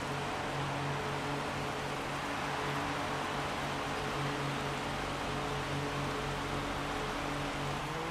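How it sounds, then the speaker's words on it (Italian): Heavy rain pours down steadily in F1 2016 during a race at Singapore, a dense, constant hiss of downpour with a low engine drone underneath and no pauses. "Sì, pioggia veramente pesante"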